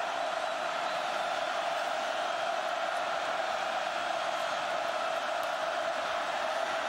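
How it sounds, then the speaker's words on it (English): A college football stadium crowd at a 2004 Notre Dame versus Boston College game roars in a steady, dense, unbroken wash of cheering that holds at an even level throughout. "Crowd back into it."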